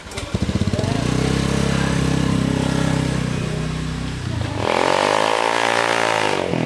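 A motorcycle engine revs loudly and close by, its rough drone rising and holding through the whole stretch with a deeper, smoother tone near the end.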